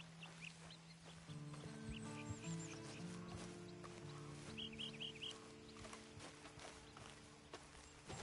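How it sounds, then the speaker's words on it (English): A horse in Red Dead Redemption 2 clip-clops with soft, steady hoofbeats, and faint clucks and bird calls sit in the background. The sound is quiet and distant, and no one speaks. "And you better get on this horse."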